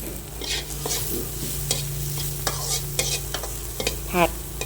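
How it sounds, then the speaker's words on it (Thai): Chili and garlic fry in hot oil for a straw mushroom stir-fry, a close, steady sizzle with a few sharp spatula clinks and scrapes against the pan, and no voices. "น้ำมันร้อนแล้วเราก็ใส่พริกกับกระเทียมลงไปเลยนะคะ เจียวพริกกับกระเทียมให้หอม"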